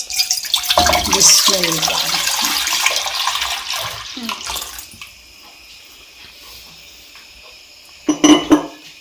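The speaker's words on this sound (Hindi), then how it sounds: "उसके लिए मैं फुल क्रीम डालूंगी, दूध।" Full cream milk pours steadily into a pan for rabri, a broad splashing stream for about five seconds, then a quiet stretch and a short clatter of the pan near the end.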